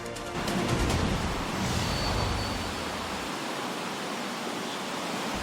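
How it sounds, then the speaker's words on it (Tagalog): Heavy rain pours without pause over Luzon in the Philippines during monsoon season, a loud, dense, steady hiss with a low rumble that drops away midway. "Walang humpay ang malakas na buhos ng ulan sa malaking bahagi ng Luzon."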